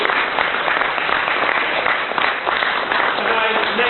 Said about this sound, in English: Another round of applause for Emma.